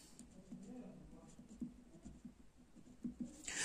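Chalk or marker scratching out words on a classroom board, soft irregular strokes and taps under a faint room hum, no voices.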